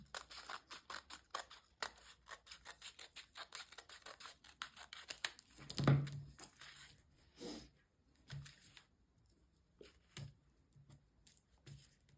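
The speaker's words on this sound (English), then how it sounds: "you can just use your scissors and just snip round" Quick, light snipping cuts of scissors through paper, a steady run of short crisp clicks close by with a few brief pauses.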